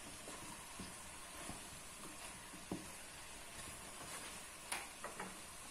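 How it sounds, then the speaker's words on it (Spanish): Potatoes being stirred into a simmering pot of rib stew, a soft steady sizzle and hiss with a few faint scraping knocks of the spoon against the pot, quiet and without talking. "Y ahora el resto de los ingredientes, las patatas, removemos también un poco"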